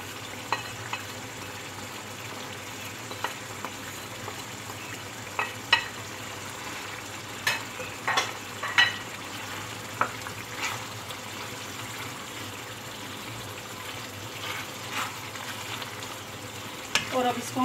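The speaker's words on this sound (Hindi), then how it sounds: "कीमा जो है अभी पक रहा है। जो हमने प्याज बचाए थे वो भी अब मैं इसमें शामिल कर रही हूँ।" Minced meat with onions fries in a pan for a Bihari keema dish, a steady sizzle running throughout with intermittent stirring clinks and scrapes close by, no voices.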